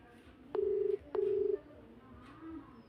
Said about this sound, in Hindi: देखें रिंग बज रही है